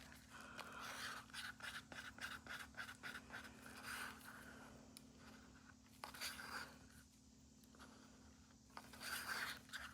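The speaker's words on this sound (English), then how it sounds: "You might think I mix it too much, but I like to make sure it's nice and blended" A stick stirs white resin in a cup, making faint, soft, repeated rubbing and scraping strokes at a steady rhythm in a quiet room.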